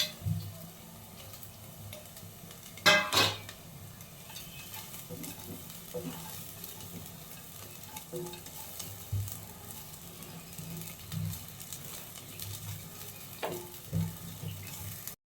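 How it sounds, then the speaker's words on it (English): Vegetables sautéing in a pan for an Indian rice dish, a low steady sizzle with stirring scrapes and a sharp clatter of the utensil near the start, faint kitchen water sounds in the background. "Sauteing the veggies for 2 to 3 minutes or 1 to 2 minutes is enough."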